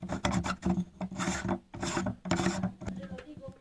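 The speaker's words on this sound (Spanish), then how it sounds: "giramos hasta que encaje y una vez lo tenemos así, simplemente enroscamos esta pieza aquí." A wall lamp part is screwed into place by hand, making close, repeated gritty rubbing and rasping strokes in uneven bursts with short gaps between turns.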